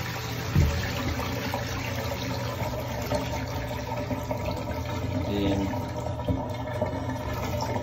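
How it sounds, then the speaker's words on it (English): Water pours out of a jar of soaking grain being prepared for mushroom spawn, making a steady, continuous gushing and trickling stream that stays close and even throughout. A voice speaks a word at the start. "we want to pour out the majority of this water"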